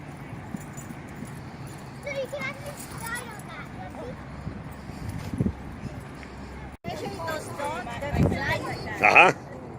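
Several dogs mill about a pen during dog-aggression training while children run past, giving scattered yelps and whimpers amid shuffling, footsteps and a general busy din, with people talking throughout and a louder burst near the end.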